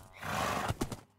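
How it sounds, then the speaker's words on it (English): A horse in the Minecraft video game whinnies over about a second, a bright, rising tone with a couple of sharp breathy bursts near the end, close and fairly loud, with no talking. "Okay, let's see a fast horse."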